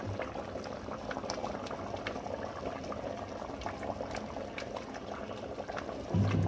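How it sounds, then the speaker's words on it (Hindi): Beef paya simmering in a pot with oil being added, making a dense, continuous bubbling boil with small liquid pops close by, ending in a brief low thump. "अब हम लोग इसमें ऑयल ऐड करेंगे"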